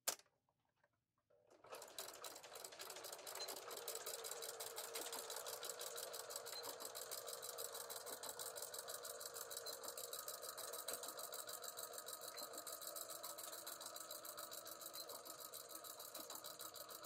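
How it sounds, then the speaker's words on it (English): A sewing machine stitches the overlapped ends of a fabric tutu, starting after a brief quiet moment and then running in a fast, even, close-up mechanical rattle that continues without a break to the end. "We're going to overlap them and then stitch it like crazy."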